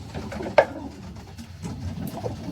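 Pigeons coo in a low, steady murmur in a loft during flight management, with a brief sharp knock near the start and soft rustling throughout.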